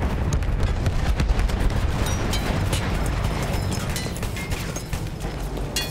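Rapid bursts of gunfire from a machine gun in the Battlefield 1 video game run dense and loud throughout, mixed with heavy booms and battle rumble, with no talk.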